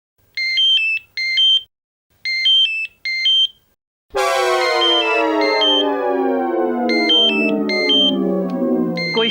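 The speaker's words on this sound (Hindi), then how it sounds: "कोई फोन उठाएगा?" A telephone rings in a household scene: four short electronic double-trill bursts, followed by a loud, sustained ringing tone that continues to the end, with no talking.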